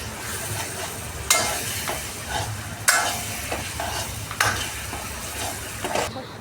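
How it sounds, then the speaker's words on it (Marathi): Pav bhaji mixture with ginger-garlic paste sizzling in a pan, stirred in bursts: a steady frying hiss broken by about four sharp scraping strokes, close and moderately loud, with no talking. "आता हलवून घेऊया"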